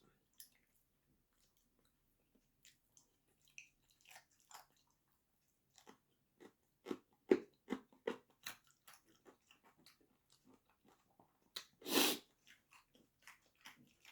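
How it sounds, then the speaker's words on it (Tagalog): Crisp, irregular crunching bites and chewing of raw carrots, close to the mic, with a louder burst near the end and short pauses between mouthfuls. "Malutong yung carrots."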